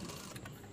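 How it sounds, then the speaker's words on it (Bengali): A sewing machine runs a double stitch along a garment sleeve seam, a short, steady mechanical whir heard faintly and alone with no talk. "আমরা ডাবল সেলাই দিয়ে নিব, আপনারাও ডাবল সেলাই দিয়ে নেবেন।"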